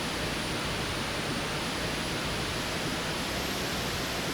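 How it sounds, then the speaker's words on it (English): A waterfall in the survival game The Infected, a steady broadband rush of falling water with no pauses, loud and even throughout. "Ooh, I see waterfalls."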